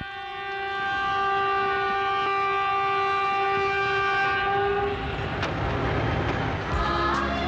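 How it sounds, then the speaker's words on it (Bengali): A train pulls into a station, its loud horn holding steady tones for several seconds before giving way to rumbling, clattering wheels and brakes close by, with no talk. "ট্রেন নিশ্চয়ই এসে গেছে"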